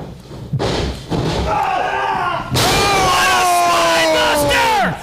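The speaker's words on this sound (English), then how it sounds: "Big elbow strike right to the jaw." An elbow strike in a pro wrestling match lands with a heavy thud, followed by a roaring, whooping crowd and a commentator's voice over the arena noise.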